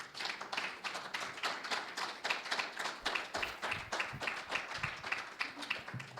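Sustained applause from an audience at a historians' meeting, a dense steady patter of many hands clapping throughout, fairly close, with no voices over it.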